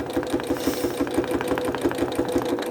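A Janome 9450 QCP sewing machine runs slowly while free motion quilting, a close, steady rhythmic whir with evenly spaced mechanical thumps of the needle, heard alone.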